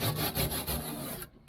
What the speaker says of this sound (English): I got my toothbrush, and I'm going to just go over everything, just try and get any excess foam off